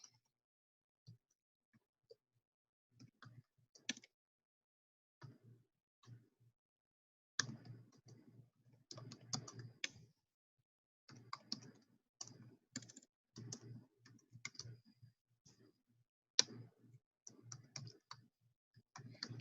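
Computer keyboard typing while entering a comment in a business workflow tool: quiet, irregular bursts of key clicks with short pauses between runs, close and fairly soft, no talking.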